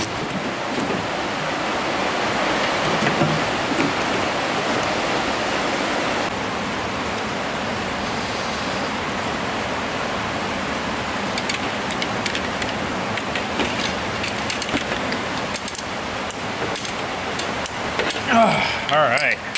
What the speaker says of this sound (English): Freaking rain, could you quiet it down some